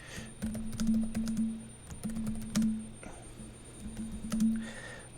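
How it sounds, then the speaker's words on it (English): Computer keyboard typing in quiet bursts of quick, crisp key clicks with short pauses between, close and fairly soft over a low steady hum. "I'm typing this out right now as we speak."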